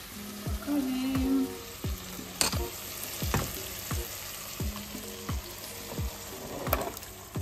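Dry beans cooking African-style sizzle and fry in a pan while a spoon stirs and scrapes, knocking against the pan in a steady rhythm of sharp taps over the bubbling.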